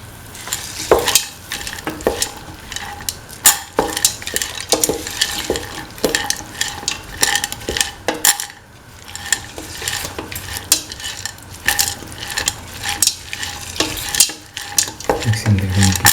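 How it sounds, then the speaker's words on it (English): Green peas stirred into a sizzling frying pan, with a spatula scraping and clattering against the pan in a busy, irregular rhythm over a steady hiss. The sound is close and loud, with no talking. "Mix in the green peas thoroughly."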